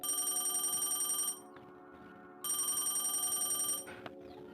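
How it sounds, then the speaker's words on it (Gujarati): A telephone rings loudly in a Gujarati comedy spoof scene, two long electronic ringing bursts separated by a short pause, with a faint third start at the end and no talk over it. "ઓહો ફોન આવ્યો"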